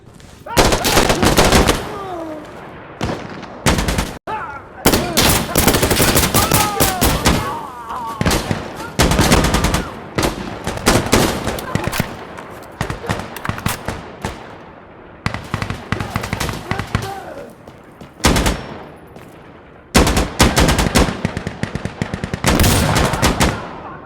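Machine gun and rifle fire in Insurgency Sandstorm on the Hillside Checkpoint map, long loud automatic bursts with brief pauses throughout, close and intense, with occasional shouted voices underneath.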